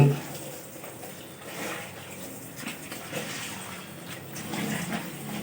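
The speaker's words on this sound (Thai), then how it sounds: "นี่เป็นการ ล้างน้ำที่สองนะครับ" Goalkeeper gloves being rinsed in a second wash of water, with a steady splashing, sloshing wash of water close by and a faint voice under it.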